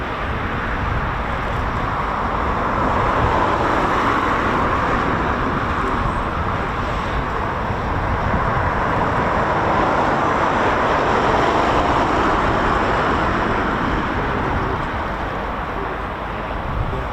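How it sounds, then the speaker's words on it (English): A Eurofighter Typhoon FGR4 jet taxiing out for departure at RAF Coningsby, a steady broad roaring whine heard from a distance, holding constant with gentle swells in loudness. "So another Typhoon taxiing out for departure."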